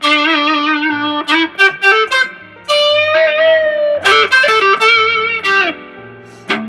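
A loud, sustained electric guitar through an Electro-Harmonix Big Muff Pi fuzz pedal, thick fuzzy distortion with slight compression, plays a melodic phrase of held notes and quick picked runs, with no voices.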